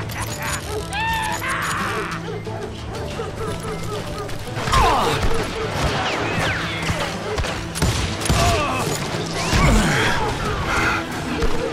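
Gunfire in the Wild West shooter game Call of Juarez: Gunslinger: a few loud, sharp shot bursts over a busy backdrop of game music and ambience, with the heaviest blasts landing near the middle and the end.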